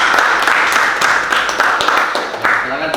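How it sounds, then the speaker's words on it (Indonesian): Applause at the close of a class presentation, with dense, steady clapping from a group filling the whole stretch at a fairly loud, even level. "Beli tepuk tangan."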